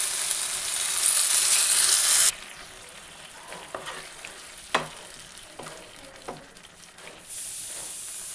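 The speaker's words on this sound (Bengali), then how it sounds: "এবার এর মধ্যে দিয়ে দিচ্ছি আদা পেঁয়াজ রসুনের যে পেস্টটা করেছিলাম পেস্টটা।" Ginger, onion and garlic paste drops into hot oil in a pan and fries for a potol paneer curry. A loud hiss settles into a softer sizzle, with scattered scraping stirs of a spoon close by.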